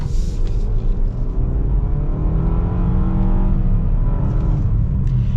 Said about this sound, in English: let's get our acceleration here in just a second and see how she goes.